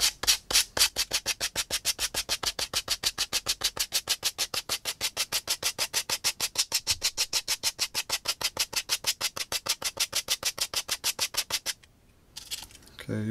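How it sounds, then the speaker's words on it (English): Rough sandpaper is rubbed back and forth on a boot last in a fast, even rhythm of about five strokes a second. The strokes stay steady and close for around twelve seconds, then stop. "just use some rough sandpaper and sand it off"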